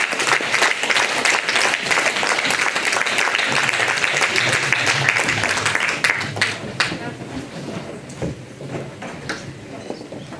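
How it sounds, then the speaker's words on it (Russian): A hall audience at an anniversary evening applauds in a dense, steady burst that fades toward the end, leaving scattered claps and some voices. "Андрей принимает зал, аплодирует."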